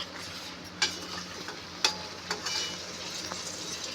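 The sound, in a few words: spiced pigeon pea mixture bubbling and frying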